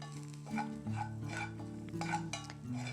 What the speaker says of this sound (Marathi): आता हे ना हे हलकंसं कांद्यासोबत भाजून घ्यायचं